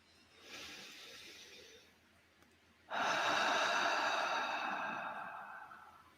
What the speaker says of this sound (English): A deeper breath in, and then a quality of releasing and yielding up to gravity with each out breath.